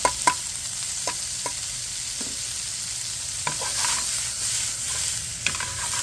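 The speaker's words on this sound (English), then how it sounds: "So we'll get these nice little saute on these, break all these onions up" Onions sauté in oil in a pan for a steak fajita filling, giving a steady sizzle with a few sharp scrapes and clatters of stirring, close and with no talk.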